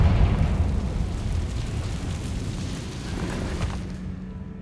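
A Confringo spell explosion in Hogwarts Legacy, set in an abandoned cave-in mine: a loud, deep blast at the start that rumbles and slowly fades over several seconds.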